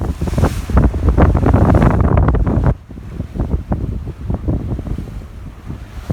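Strong wind and choppy, lumpy waves rush past a Catalina 22 sailboat close reaching under a double-reefed main and working jib at about 5 knots in 12 to 14 knot winds off SW Florida, loud and steady, easing slightly partway through.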